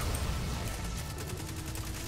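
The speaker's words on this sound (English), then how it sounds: "why do these guys keep using the machine gun like it's the best thing in the world?" Rapid machine gun fire from the video game Destiny 2, a dense continuous burst of shots with mechanical clatter, loud and close, running for the whole moment with no talk.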